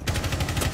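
Rapid automatic gunfire from Rainbow Six Siege gameplay, a dense burst of repeated shots lasting under a second, loud and steady with no talk over it.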